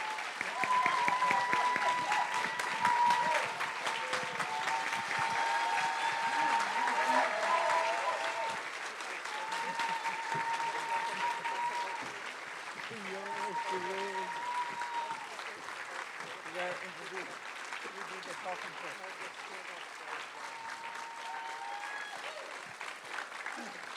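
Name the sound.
audience applause for elders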